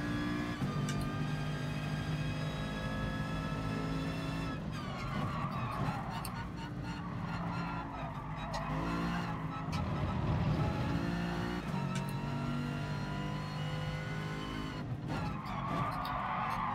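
Car tyres skid and squeal under late braking on the Nürburgring in GT Sport, a continuous screech layered over a loud, revving race-car engine.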